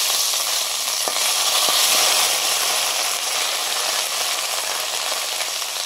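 Whole cumin, dried chilli, turmeric and ginger paste fry in hot oil, giving a loud, dense, unbroken sizzle and hiss close by, with a couple of faint knocks and no voices.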